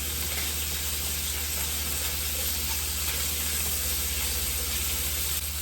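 Shrimp sizzle hard in a hot pan just after being flipped, a dense, even, close frying hiss that holds steady throughout with no voices.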